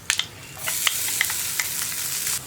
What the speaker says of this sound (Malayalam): നമ്മൾ റെഡിയാക്കി വെച്ചിരിക്കുന്ന അരപ്പ് ചേർത്ത് കൊടുക്കാം.